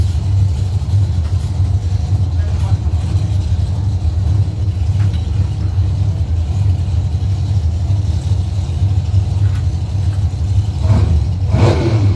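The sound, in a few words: 540 cubic inch blown drag racing car engine revving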